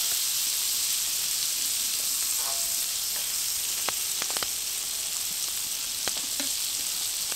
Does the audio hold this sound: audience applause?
no